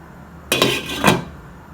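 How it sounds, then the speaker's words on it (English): A metal lid set onto a pot of Kashmiri pulao, a close, short clatter followed by a second settling clink about half a second later, alone in a quiet kitchen. "Now we are going to cover it with the lid"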